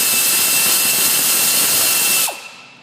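A power tool runs steadily while a bolt is tightened on a Ford Taurus 3.0L 12v engine during head gasket replacement, whirring loud and close, then cutting off abruptly near the end.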